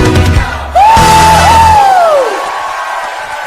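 A worship congregation shouts and cheers with joy, a loud crowd outburst with one rising, sustained yell above the group that fades away.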